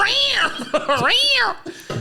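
A man imitates a cougar with a loud, close, drawn-out meowing yowl that rises and falls in two swoops. It comes across as a playful cat call voiced during a casual podcast chat.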